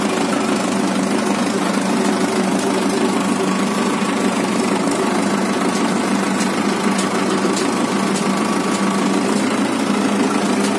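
Tractor engine running steadily in a higher gear on an Indian farm road, a continuous loud mechanical drone with knocking vibration throughout, no voices.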